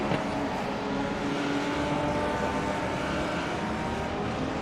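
Race cars in a Creventic endurance series event roar steadily, with a dense, continuous engine drone near the pit lane that stays loud and unbroken throughout, with no voices.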